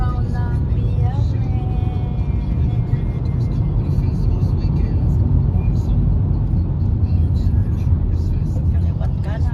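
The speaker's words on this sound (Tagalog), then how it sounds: "Ayan, ang daming sasakyan." Heavy Friday road traffic on a bridge near Vancouver and Burnaby, a dense continuous roar of passing cars and buses with engine whir, loud and steady from start to finish.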